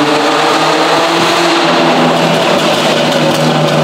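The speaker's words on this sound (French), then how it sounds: "Mais elle fait des pop and bang." A loud Volvo fitted with a 2JZ engine of about 1000 hp revs hard, with a crackling, popping exhaust running throughout and no talking.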